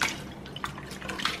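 Raw red snapper being washed under running water for Jamaican-style roast fish; faint trickling and dripping with a few soft splashes, fairly quiet and without talk.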